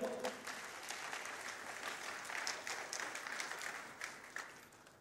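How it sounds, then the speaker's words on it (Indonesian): A church congregation claps steadily throughout, a dense patter of applause that sounds somewhat distant, with faint voices mixed in. "Beri tepukan lagi pada ibu"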